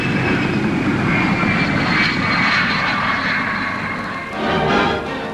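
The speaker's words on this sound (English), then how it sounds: "Coming in to land low and fast, the pilot uses a tail parachute to act as a brake." A triangular research aircraft comes in low and fast to land at Farnborough in the 1950s, its engine roaring steadily and loudly throughout, swelling briefly near the end.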